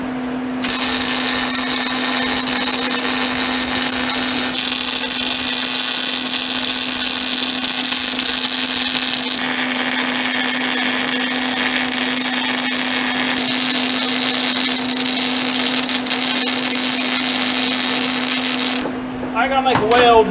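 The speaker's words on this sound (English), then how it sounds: "let's get that little fella welded up" Steady, loud electric welding on a part of a 1940 coupe, a continuous dense crackling buzz with a constant hum underneath lasting nearly the whole stretch before cutting off at the end.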